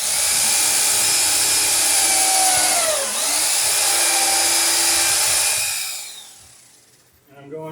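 Power drill whining at high speed as it drives in against a wooden dory's transom, loud and steady, the pitch dipping once midway under load, then spinning down near the end with faint handling noise.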